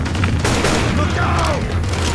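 Fireworks go off on a concert stage in the Dark Carnival campaign of Left 4 Dead 2, with a dense run of close, loud crackling bursts and booms over steady background game noise.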